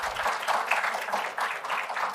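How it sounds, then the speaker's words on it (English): An audience applauds the author Sriram Balasubramanian at a book unveiling, with dense, steady clapping that fills the whole stretch at an even level. "can we have a huge round of applause for him"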